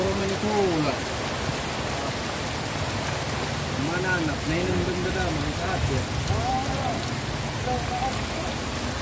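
Steady rain pours down in a summer downpour, a dense continuous hiss throughout, with voices talking faintly beneath it.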